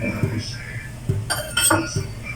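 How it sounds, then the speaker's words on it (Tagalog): Knife chopping ingredients on a cutting board while preparing sweet and sour tuna fish, a series of close, evenly spaced taps and clinks with a voice talking over them. "hiwain ko muna itong mga ingredients ko"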